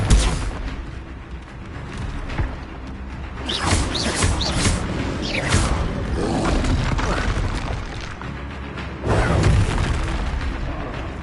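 Confringo fire spells blast in Hogwarts Legacy, several booming explosive bursts at uneven intervals, with a strong hit near the start and another late, over a steady rumble of battle effects.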